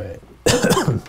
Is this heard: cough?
yes